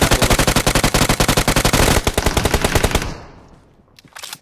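Rapid automatic gunfire in a video game, a fast, loud, steady burst of shots that slows into scattered rounds and then fades into a quieter tail with a few faint sounds.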